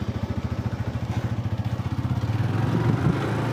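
A motorcycle engine pulls away on a busy market road, its close, steady putter pulsing evenly and then swelling louder as it gains speed.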